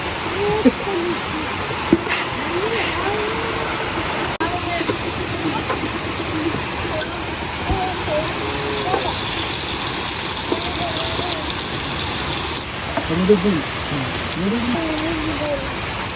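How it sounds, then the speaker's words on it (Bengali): Heavy rain pours down on a dark, stormy day in a rural Bengali home, a dense steady hiss of drops on surfaces throughout, with doves cooing softly underneath. "এখন আবার এই যে অন্ধকার হইয়া ধুম বৃষ্টি নামছে"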